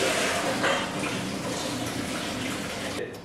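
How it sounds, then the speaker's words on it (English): Cold tap water runs over freshly boiled eggs in a kitchen, a steady hissing gush that fills the whole moment with a brief splashy change near the end. "I'm going to take them off the heat and finish them under cold water, or rinse them under cold water, just to make sure I stop the cooking"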